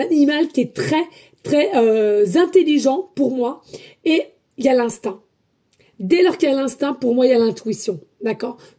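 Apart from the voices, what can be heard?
No everyday noise stands out behind the speech.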